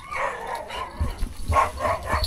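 Several dogs bark in short, loud bursts at close range, with a few yips scattered between them and no talk over the barking.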